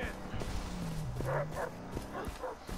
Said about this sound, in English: There's dogs.